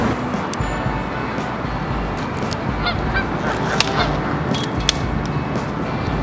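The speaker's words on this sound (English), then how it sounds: "The Canadian goose was just dipped down." Canada geese honking loudly and repeatedly over a dense, noisy wash beside the Charles River, with distant traffic and a few faint voices in the background.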